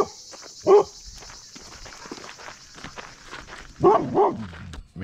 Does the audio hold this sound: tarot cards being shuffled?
no